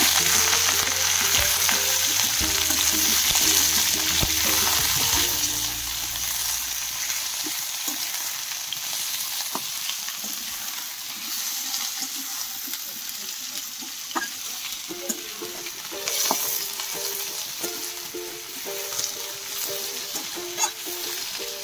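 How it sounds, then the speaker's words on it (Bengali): Sliced potatoes, onions and chillies frying in a pan sizzle in a continuous close hiss, with a low tonal hum at first, then scattered crackles and light stirring taps. "আলুটা, পেঁয়াজটা ভাজা ভাজা হয়ে গেছে"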